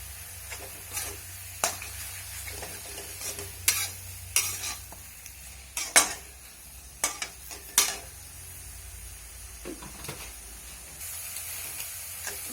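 Chicken curry frying in a pan as tomatoes go in, with a steady sizzle and hiss broken by repeated sharp scrapes and clacks of stirring, close and alone with no talk.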